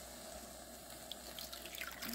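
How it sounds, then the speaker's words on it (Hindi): A cup of water is poured into a quinoa-oats khichdi mixture, a soft, faint splashing trickle that runs steadily for a couple of seconds. "अब हम पानी ऐड करेंगे, तो 1 कप"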